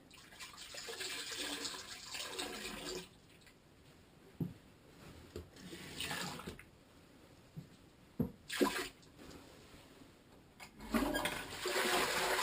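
Toilet in an Earthship home flushed after Rid-X septic treatment is added, a rushing swirl of water that fades to refill trickles and gurgles, then surges again near the end.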